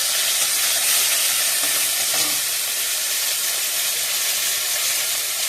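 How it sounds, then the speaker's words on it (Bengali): Chopped onion, garlic and ginger hitting hot oil in a wok, a loud dense hiss of sizzling that holds steady throughout, with faint scraping and no talk. "এপাশে তেলটা গরম হয়ে গেছে, মধ্যে পেঁয়াজ কুচি রসুন কুচি আদা ভাজতে দিয়ে"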